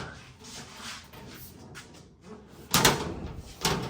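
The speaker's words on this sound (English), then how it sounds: "I'm not going to be able to get this dang door open." A door on a 1978 Chevrolet Malibu is worked open with soft shuffling and scraping, then gives two solid clunks near the end, heard close up in a garage.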